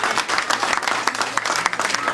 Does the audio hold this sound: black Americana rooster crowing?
no